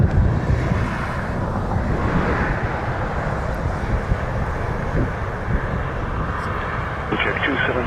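An airliner rolls down the runway for a short takeoff at Toronto Pearson, its engines a loud, sustained roar mixed with wind noise while a person talks over it.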